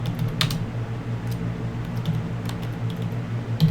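Keys clatter on a computer keyboard in quick, light, irregular taps as a name is typed, close and clear over a low steady hum.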